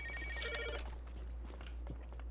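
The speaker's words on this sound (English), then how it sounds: "The phone is ringing." A telephone rings in a room, a short bright electronic trill at the start, faint and somewhat distant over a low hum, followed by quiet background noise.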